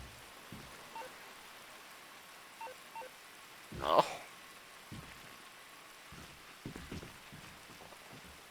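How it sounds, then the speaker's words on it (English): Steady rain hisses and patters softly in the background, with scattered faint drops and a brief louder burst, while a person speaks briefly nearby. "Why is it raining?"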